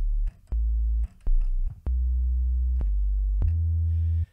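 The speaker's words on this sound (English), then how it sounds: "I'm gonna use a sine wave." Pure sine wave bass notes from a Serum synth patch for jungle music play as a series of deep, smooth sustained tones, each starting with a click and stepping between pitches, loud and alone.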